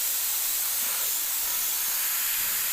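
An airbrush sprays paint in a practice run of dots, giving a steady, close, continuous airy hiss that holds without a break for the whole moment.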